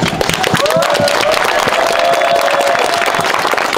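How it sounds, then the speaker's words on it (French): An audience at a French championship final claps and cheers for the staff in a loud, continuous wave, with brisk overlapping claps and crowd voices mixed throughout. "Vague d'applaudissements pour le staff, notamment pour Yanis s'il vous plaît"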